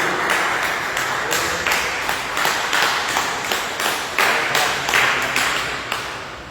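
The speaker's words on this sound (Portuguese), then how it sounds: "Quem pode dar uma salva de palmas para Jesus?" Church congregation clapping for Jesus during an evening service, with loud, rhythmic hand claps in a steady beat filling the room, fairly close and continuous.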